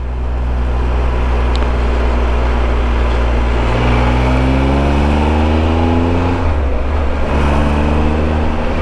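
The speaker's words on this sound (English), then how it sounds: "this triple engine just sounds fantastic" A Triumph Tiger 1200 triple-cylinder motorcycle engine revs up with rising pitch, holds, then drops off before climbing again, heard up close and steady throughout.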